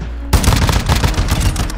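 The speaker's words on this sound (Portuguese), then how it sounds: "é uma SMG com bala de 12, tipo, mesmo tô errando os tiros" An SMG chambered for 12-gauge shotgun rounds in a shooting video game unloads in a loud, close burst of rapid, booming shots that continue without pause after a short quiet start.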